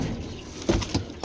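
Low, soft cooing from pet pigeons, a few short bursts in quick succession, close by and otherwise quiet.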